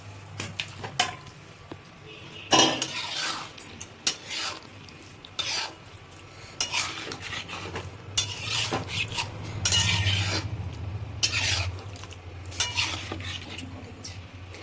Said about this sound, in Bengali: এবার এটাকে ভালো করে এর সাথে একটু কষতে হবে